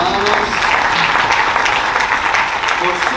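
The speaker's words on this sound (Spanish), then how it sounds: "Den un aplauso al Señor, hermanos." A church congregation applauding during a sermon, a steady dense clapping from many hands filling the hall for several seconds, with a voice faintly under it.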